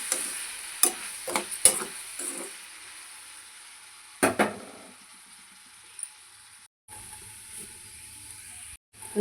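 Sliced onions frying in a pan for a stuffed brinjal curry, a soft steady sizzle broken by a few sharp spatula clanks and scrapes, with brief quiet dropouts and no talking.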